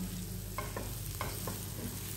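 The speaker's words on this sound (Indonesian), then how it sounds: "Lanjutkan memasak bumbunya sampai agak kecoklatan seperti ini" Spice paste with kaffir lime leaves sizzles quietly in a frying pan for chicken in sweet soy sauce with onion. A few soft scraping stir strokes sound over the steady frying hiss.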